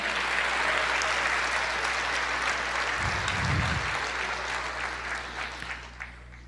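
Church congregation applauding together during a worship service, a steady wash of many hands clapping that fades toward the end, with a low hum and a brief thump near the middle.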